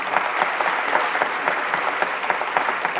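Audience applause at the 2014 World Armenian Entertainment Awards ceremony, a dense, steady clapping that fills the hall for about three seconds without pause.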